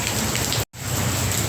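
Heavy rain pouring down on a surface, a dense, loud, steady hiss of drops with a momentary break in the middle, no voices.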